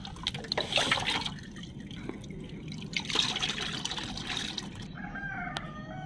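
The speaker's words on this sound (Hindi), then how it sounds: "आप देख सकते हैं इसे मैं पानी में मिला रहा हूँ।" Used tea leaves are stirred into plain water to make a liquid plant fertilizer, giving steady close sloshing and dripping throughout, with faint background sounds.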